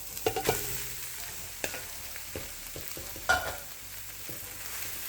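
Halibut fish frying in a pan for fried rice gives a steady close sizzle, broken by a few sharp scrapes and clatters of stirring spread through the clip.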